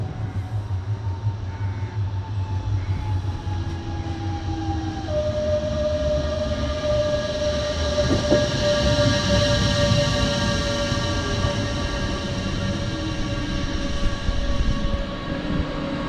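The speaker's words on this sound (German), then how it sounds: "schauen uns jetzt erstmal die Einfahrt unseres Zuges an." Baureihe 426 regional train pulling into Untertürkheim station, with a loud, steady rumble of wheels and motors, a rising electric whine, long tonal squeals and hums as it rolls in close, and no speech.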